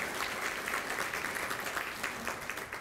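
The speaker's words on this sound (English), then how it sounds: "Let's give Sandra a round of applause." An awards luncheon audience applauds a pianist who played during lunch, a steady, fairly soft spread of many hands clapping with no voices.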